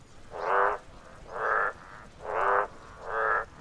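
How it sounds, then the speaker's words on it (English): Frogs croak in a synchronized chorus, four evenly spaced, buzzy calls about one second apart, each lasting roughly half a second, clear and fairly close over a quiet background. "Let's go back to frogs for a moment."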